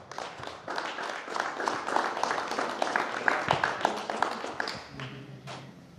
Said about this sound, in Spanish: Recibamos con fuertes aplausos.